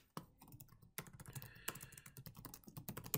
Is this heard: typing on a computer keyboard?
yes